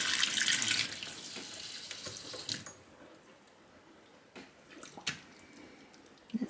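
Very hot water pours from a sink tap into a basin, loud and hissing at first, then easing to a softer trickle with a few splashes and knocks as something is rubbed under it.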